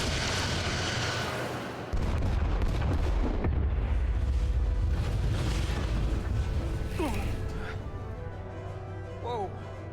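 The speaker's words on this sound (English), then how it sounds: "Hit their engines. We've already lost the Beskar. We need to protect ourselves first. Target their weapon systems. Hi, Captain. Firing torpedoes." Torpedoes fire in the Star Trek Resurgence video game, deep rumbling booms and blasts over a loud continuous roar, with a sharp surge near two seconds and brief whooshing sweeps later, under in-game speech.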